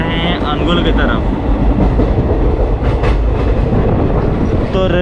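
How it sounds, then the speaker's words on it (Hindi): A passenger train heading toward Angul runs along the rails with a loud, steady rumble and rhythmic clickety-clack, close and continuous, with faint tonal squeals near the start and end. "ये वही ट्रेन है जहाँ पर हम लोग जा रहे हैं अनुगुल की तरफ"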